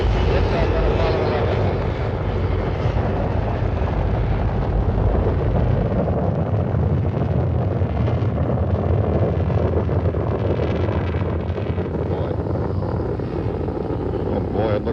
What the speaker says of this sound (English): Liftoff on Apollo